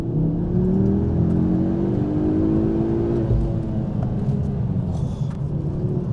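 A Ford Focus RS with a turbocharged five-cylinder engine revs from inside the car, a loud, close, throaty drone that climbs in pitch and then settles into a steady rumble.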